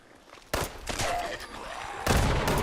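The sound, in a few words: grenade thrown in video game Fallout 76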